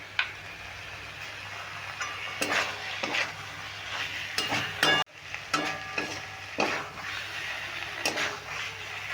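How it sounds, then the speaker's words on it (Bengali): Elephant foot yam stalks and chickpeas are stirred in a frying pan, with a spoon scraping and tapping against the metal in repeated strokes over a steady sizzle, close and clear. "এখন এইভাবে নেড়ে নেড়ে কিন্তু রান্নাটা করে নিতে হবে"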